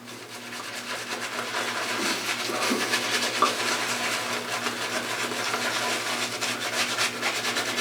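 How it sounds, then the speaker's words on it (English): Shaving brush working shaving cream into a lather directly on the face, a steady close, bristly rubbing and swishing that continues throughout with no talk. "Just going to lather directly to the face."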